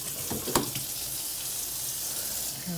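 Tap water rinsing the tank of a Bissell Little Green portable carpet cleaner in a sink, a steady close splashing stream with a brief clatter near the start.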